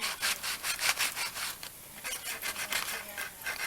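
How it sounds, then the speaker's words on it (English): Wood edges are rubbed by hand with 80 grit sandpaper to distress an upcycled lazy susan, a close, rhythmic series of rasping back-and-forth strokes, about a dozen in quick succession with a short pause, and no talk. "I have 80 grit sandpaper, and I'm just lightly distressing"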